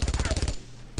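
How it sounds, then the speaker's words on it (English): A machine gun in the game Brothers In Arms: Road to Hill 30 rattles off a short, loud burst of rapid shots that cuts off, leaving a fading tail before a final crack. "Oh, that's a fucking machine gun, too."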